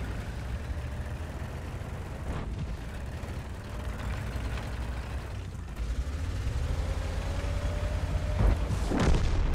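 Two sharp, heavy tank cannon booms from World of Tanks, fired by an ELC EVEN 90 light tank a few seconds apart, over a constant low engine rumble and rattling mechanical noise.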